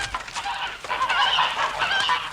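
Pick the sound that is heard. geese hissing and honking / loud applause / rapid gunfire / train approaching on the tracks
geese hissing and honking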